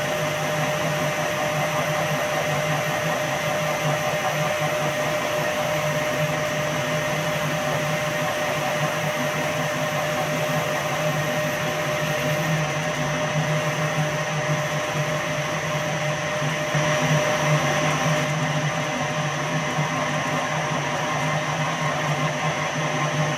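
A Victor brake lathe cutting a drum brake on its outside diameter, a steady loud mechanical whine and hum with a high cutting tone, continuous and unbroken for the whole stretch with no talk.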